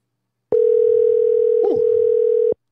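A loud, close telephone dial tone sounds as a call is being placed, holding a steady pitch for about two seconds with a small click partway through before it cuts off abruptly.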